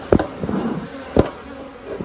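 Honeybees buzz steadily around brood frames pulled from an open hive with drawn yellow wax, a close continuous drone broken by a couple of sharp knocks.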